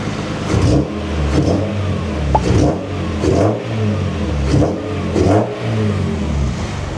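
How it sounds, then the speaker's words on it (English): A BMW E30 M3 fitted with an S54 engine revs repeatedly, roughly once a second, in loud, close blips over a steady rumbling idle, with no talking. "For an S54, this thing sounds pretty good."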